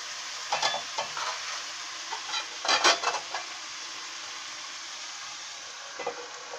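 Mixed vegetables cooking in a covered pan give a steady soft sizzle, with a few brief louder scrapes or clatters near the middle and again toward the end, and no one talking.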